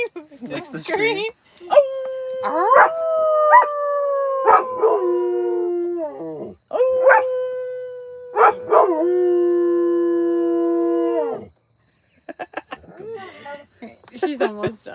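A dog howls repeatedly up close, long sustained wails broken by short yips and whimpers, with a pause before a few final yelps.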